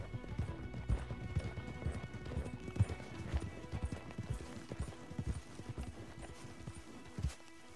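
Horse hooves clip-clopping in the video game Red Dead Redemption, a steady, uneven rhythm, fairly close, with occasional heavier thuds and a faint whinny, no talking.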